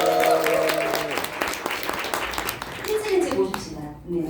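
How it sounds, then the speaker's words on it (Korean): A crowd at a business leaders' meeting applauds the male leaders, a full steady clatter of hands that thins out near the end, with a voice speaking over it. "그래서 우리 남성 리더님을 위해서 더 크게 박수."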